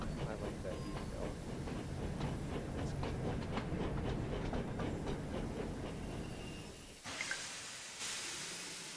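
A train runs on rails in a Thomas and Friends video game, rumbling with rhythmic wheel clicks for about seven seconds before the rumble cuts off and a short hiss follows.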